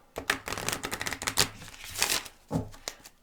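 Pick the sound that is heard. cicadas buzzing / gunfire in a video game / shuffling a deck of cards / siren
shuffling a deck of cards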